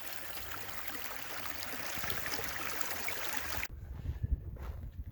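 A bubbling mountain brook of clear water runs off the mountains beside Gold Camp Road, a dense, steady rush close by that drops abruptly to a quieter trickle about two-thirds of the way through.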